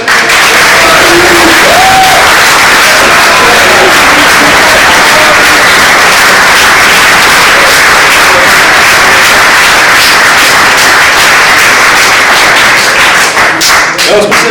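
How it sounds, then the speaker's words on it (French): A classroom or school audience gives loud, sustained applause, a dense roar of clapping hands running throughout with a few voices mixed in. "je voulais faire qu'on fasse un peu un applaudissement pour Marie"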